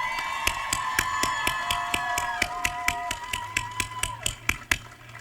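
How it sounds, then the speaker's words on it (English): Audience applause and cheering at a school senior investiture ceremony, with sharp rhythmic claps throughout and voices whooping over them at first, the clapping growing louder and more spaced toward the end. "If we can give Dr. Jennings a round of applause again."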